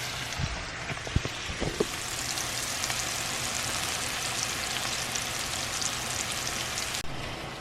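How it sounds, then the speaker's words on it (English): Garlic sizzles steadily in a hot pan as it sautés for dinner, a continuous close frying hiss with a few faint clinks near the start. "I'm going to let this saute here for a little bit."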